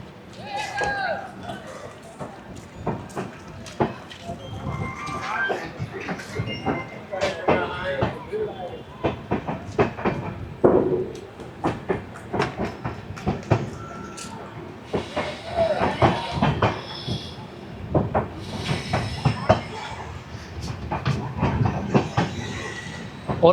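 Gorakhdham Express (12556) sleeper coach rolling on after departing Basti, with steady rumble, rattling clatter and occasional wheel squeal throughout, people talking over it.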